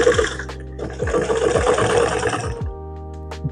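A manual sewing machine stitching leather after a tension adjustment, running in a fast regular chatter of needle strokes for about two and a half seconds before stopping, leaving a steady hum and one faint final click.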